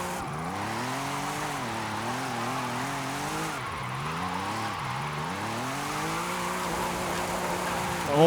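An Audi RS5 in the Forza Horizon racing game drifts with a sustained engine drone that swoops up and down in pitch as the throttle changes, steady and moderately loud throughout.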